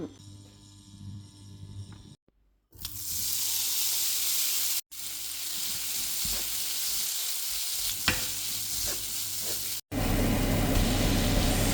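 Chili paste with tofu stir-frying in a pan, a steady loud sizzle broken by a few brief gaps, growing fiercer near the end.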